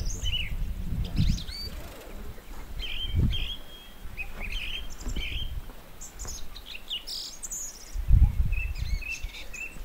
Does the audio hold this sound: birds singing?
yes